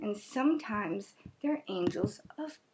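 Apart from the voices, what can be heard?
No distinct noise like a dog, phone or traffic.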